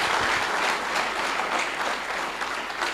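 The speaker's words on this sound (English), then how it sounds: "Let's give them a bigger round of applause." Audience applause fills a university hall during a U.S. ambassador's visit to Mbarara University of Science and Technology: a dense, steady wash of many hands clapping at once, loud and sustained throughout.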